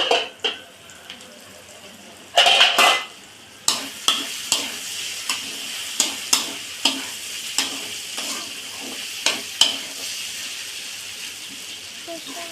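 Bitter gourd and shrimp fry in a covered pan. A steady sizzle runs underneath, a loud clatter comes early on, then a regular series of sharp scraping stirs follows at roughly one-second intervals.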